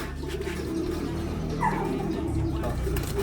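Racing pigeons coo softly and intermittently beneath a steady background hum, with voices and other noise mixed in throughout.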